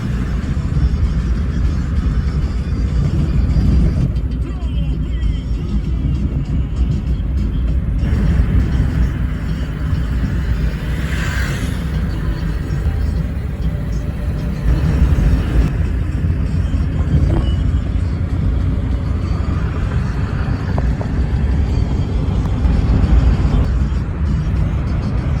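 Steady low engine rumble and road noise from inside an Uber car riding through Bogota, a continuous drone with slight swells and no talk.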